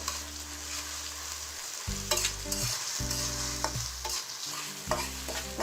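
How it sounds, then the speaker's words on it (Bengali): Ginger garlic paste is stirred and fried in a pan for a crab curry: a loud, steady sizzle broken by repeated spatula scrapes and clatters against the metal, with no talking. "এখন এই আদা রসুনের পেস্টটাকে ভালো করে নেড়ে ভেজে নিচ্ছি যাতে এর কাঁচা মেলটা না থাকে"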